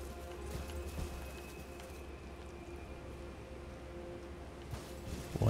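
Hooves of the spectral steed Torrent in Elden Ring gallop in a soft, rapid beat over a low, steady game ambience, fairly quiet throughout.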